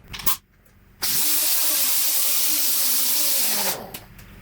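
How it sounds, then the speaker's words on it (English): An orbital sander on 180 grit running against wood for about three seconds, a loud steady buzzing whir that starts and stops abruptly, close up, with light handling knocks before and after. "Then I'll go to 180 grit on an orbital sander."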